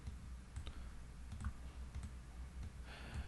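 Several sharp computer mouse clicks, spaced irregularly, sit over a steady low hum; they are close and fairly faint, with no talking.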